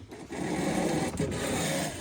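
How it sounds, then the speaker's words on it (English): A boat's auto tiller autopilot motor whirs steadily inside the cabin, a constant mechanical drone with a buzzing, vibrating texture that fills the space. "This is where the auto tiller is, so the noise is just constant here."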